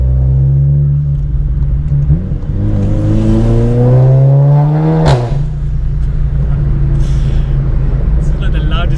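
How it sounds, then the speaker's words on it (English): A tuned 2018 Seat Leon Cupra with about 420 bhp revs hard, loud and close from inside the car, its engine note climbing in pitch through repeated sweeps before dropping back to a deep, droning idle. "This is like the loudest car I've ever been in."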